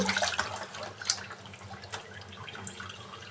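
Tap water runs while fried fish is washed under it in a home kitchen, giving a steady faint splashing stream with small drips and sloshes throughout.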